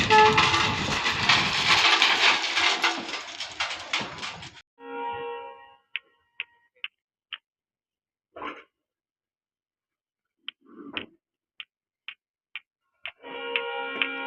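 A freight train engine pulls into a siding line at Masagram. A loud, broad rumble lasts several seconds, then gives way to quieter tonal squeals and sharp, evenly spaced clicks, with another rumbling burst at the end.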